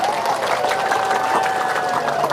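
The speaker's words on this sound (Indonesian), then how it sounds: "Dengerin tuh, tepuk tangan lagi" Audience applause at an Islamic sermon gathering, a brisk continuous patter of clapping from a crowd, fairly close, with a sustained tone running beneath it.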